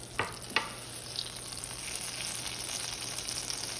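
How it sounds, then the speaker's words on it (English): Butter melting in a frying pan with a little olive oil and garlic for Instant Pot sisig, making a soft, continuous close sizzle with two sharp utensil taps near the start. "I'm going to let the butter melt"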